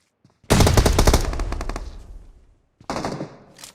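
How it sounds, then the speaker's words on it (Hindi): Video game machine-gun fire from an enemy in a building opposite: a loud, close burst of rapid automatic shots that fades out, followed after a short gap by a second, shorter burst. "हमारे सामने वाली बिल्डिंग में राहुल गांधी का दामाद बैठा हुआ था जिसने हमारे ऊपर गुस्से में फायरिंग कर दी।"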